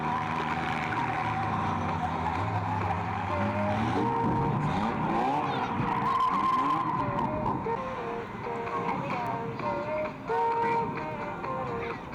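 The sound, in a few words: race cars with wheel spin at a raceway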